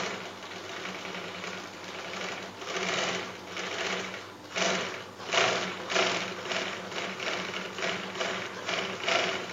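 A sewing machine stitching practice seams, a steady close mechanical whir with rhythmic pulsing needle strokes that rise and fall in bursts, no voices.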